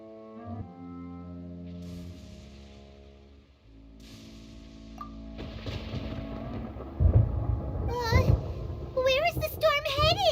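Thunder crashes in the video game Genshin Impact, a deep rumbling boom layered with swelling game music and tones, followed by a high, bright character voice speaking.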